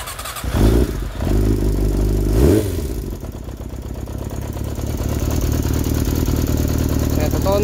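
Yamaha XJR400 motorcycle engine being started after an overhaul: starter crank and catch, then the engine settling into a steady, loud, clattery idle close by.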